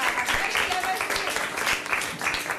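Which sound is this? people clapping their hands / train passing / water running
people clapping their hands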